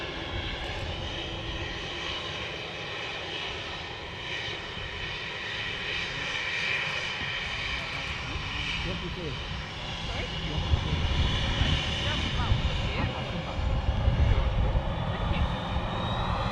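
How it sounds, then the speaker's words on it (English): An Airbus A380 airliner arriving at Manchester Airport makes a broad jet roar that builds gradually and swells louder toward the end, with people talking nearby over it. "Here we go, this is the 380 arriving."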